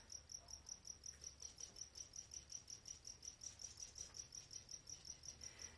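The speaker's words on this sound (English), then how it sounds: "That's a cricket, that's for sure." A single cricket chirps in steady rapid pulses at night, faint and even, with a low background hum and no talk.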